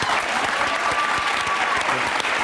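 Studio audience applauding on a morning TV show, a dense, steady wash of clapping that fills the whole moment at full level with no voices on top.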